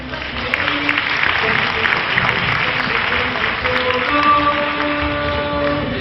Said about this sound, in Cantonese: 希望大家可以俾多啲掌聲佢哋啦